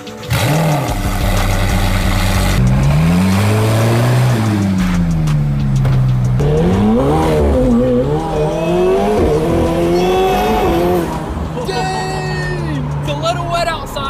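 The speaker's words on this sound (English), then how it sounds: "this thing sounds insane. It's a V8 twin turbo, man." A McLaren 720 twin-turbo V8 engine revs loudly and continuously, pitch rising and falling through the gears, with a voice briefly audible over it.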